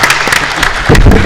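Audience applause at the close of a talk, a dense wash of clapping that swells louder near the end of the short burst.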